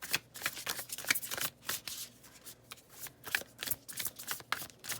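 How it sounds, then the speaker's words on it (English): Tarot cards being shuffled by hand, close and crisp, with repeated quick riffling bursts and soft papery slaps in an irregular rhythm, heard alone in a quiet room. "All this shuffling, I feel like you're getting some good ASMR"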